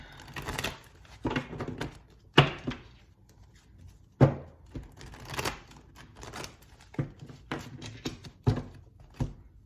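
Repeated soft riffling and tapping of giant Rider-Waite tarot cards being shuffled, in irregular bursts with quiet gaps between, close by.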